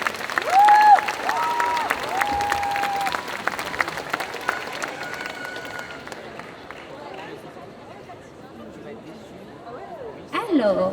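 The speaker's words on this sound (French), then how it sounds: "Tonnerre d'applaudissements pour Stéphanie." An audience at a solo cosplay contest during a Japan convention bursts into applause with some cheering, fairly loud for several seconds before fading into crowd murmur. An amplified voice rises over the noise near the end.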